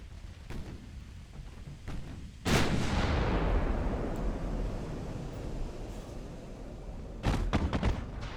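Naval artillery in the game Ultimate Admiral: Dreadnoughts: a few distant thuds, then one heavy gun blast with a long rumbling decay, and later a cluster of sharper shots, with no talk.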